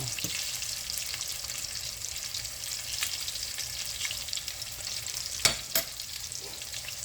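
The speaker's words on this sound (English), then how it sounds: "As these are done frying" Steady sizzling of cutlets frying in a pan, moderately loud and continuous, with a couple of brief clicks near the end and no talking.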